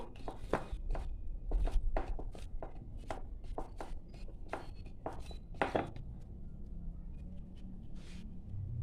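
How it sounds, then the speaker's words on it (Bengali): Rested flour dough for goja sweets is kneaded and pressed by hand, giving a run of dull, irregular thumps and slaps, close and steady for several seconds, with no voices. "এবার আমি আবার একটু ভালোভাবে ঠেসে নেব"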